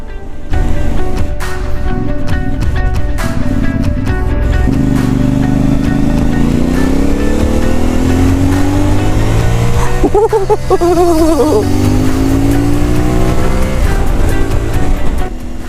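A CFmoto 450 MT motorcycle engine drones steadily while riding, its pitch sweeping up and down as the throttle opens and closes, with heavy wind rush throughout and a rising surge near the end.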